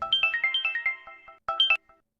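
A mobile phone ringtone plays a bright, repeating electronic melody of quick tones, loud and close. It breaks off briefly, then plays a few more notes before stopping.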